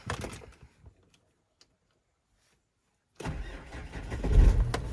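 A few faint clicks in near silence, then the 2.5-litre, 150 hp engine of a 2009 Opel Vivaro van cranks and catches, revving up loudly and close by.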